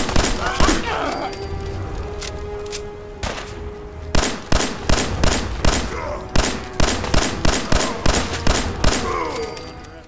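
Pipe pistol gunfire in the video game Fallout 4, a loud close volley of sharp repeated shots, first ragged and then in a fairly regular rapid rhythm, with a voice talking over it.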